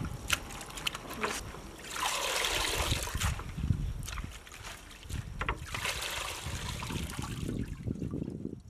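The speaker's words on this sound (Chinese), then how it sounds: "剥掉一层，好洗一洗" Peeled garlic cloves being rinsed in water in a kitchen before stir-frying with coriander and chili, with sloshing and splashing in bursts and some trickling, close and moderately loud.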